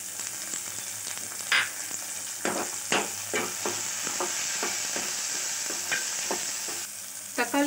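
Tomatoes and onions sauté in hot oil for chana masala, a continuous close sizzle broken by repeated sharp clicks and scrapes of a spoon stirring the pan.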